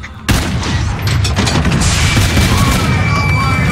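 Dense, loud toy gun fire in Call of Duty Infinite Warfare's zombies mode, a sudden onset into continuous rapid shots and booming impacts that fill the whole stretch without pause.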